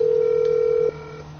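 A steady telephone dial tone holds alone for most of the clip, then cuts off as a call is dialed to reach a mechanic, leaving faint line noise behind.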